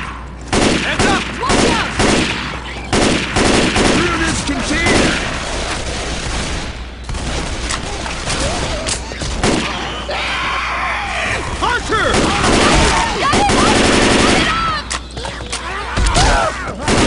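Loud, dense gunfire from Left 4 Dead 2 rattles almost nonstop in rapid bursts, mixed with zombie screams and characters yelling over the shooting.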